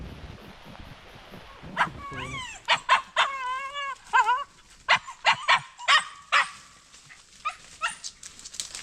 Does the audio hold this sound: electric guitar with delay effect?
no